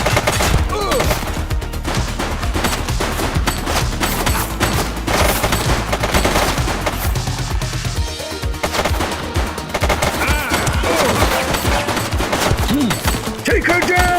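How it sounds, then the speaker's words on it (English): Heavy, continuous automatic gunfire in a police officer video game, loud overlapping bursts of shots running throughout with a short lull midway before the firing picks up again. "Shooting!"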